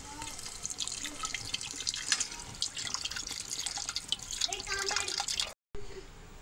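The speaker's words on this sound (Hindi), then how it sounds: "उसमें 1 ग्लास के करीब हम इसमें पानी डाल देते हैं।" A glass of water pouring into dal frying in a pan, a continuous splashing, sizzling rush that is close and steady for several seconds before cutting off abruptly, then a quieter hiss.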